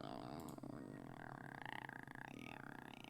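A woman's long, drawn-out burp rolls on for about three seconds outdoors while friends dig a pit, a loud, croaky, voiced belch that wavers in pitch.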